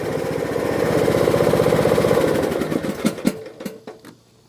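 A new riding lawn mower's small engine runs with a fast, steady, close-up chugging drone before stuttering and dying away into near silence.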